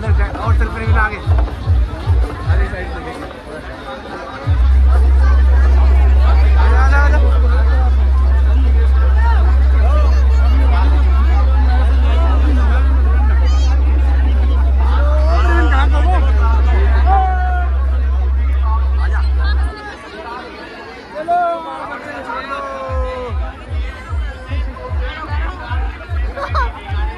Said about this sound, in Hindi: देखिए बहुत ज्यादा भीड़ हो रही है मेले में।